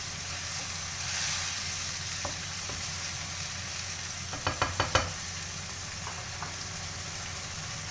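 Chicken liver pieces fry in a karahi of masala with a steady, close hiss and sizzle. A quick burst of sharp stirring clicks rises near the middle, and a few scattered knocks follow.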